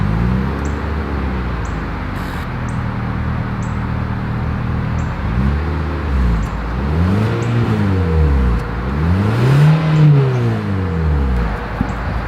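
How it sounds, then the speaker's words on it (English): The exhaust of a 2023 Mitsubishi Outlander SUV revs repeatedly, rising and falling several times, heard close up over a steady idle between the revs. "As always, here is that exhaust clip."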